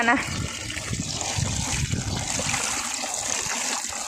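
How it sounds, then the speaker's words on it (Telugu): Running water trickling and splashing as mutton is washed outdoors for pulao, a steady close wash with a voice speaking over it. "నాన్న అయితే మటన్ కడుగుతున్నాడు ఫ్రెండ్స్"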